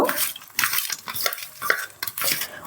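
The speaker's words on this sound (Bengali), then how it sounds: "এবার মাছগুলোকে খুব ভালো করে মেখে নেব" Kuchia fish is mixed with turmeric, salt and mustard oil in a metal bowl, giving close, wet squelching and clattering bursts in an uneven rhythm, with no talking.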